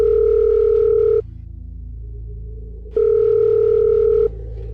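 A telephone handset rings back twice with a steady two-tone ring: a long burst, a pause, then another burst, clear and close.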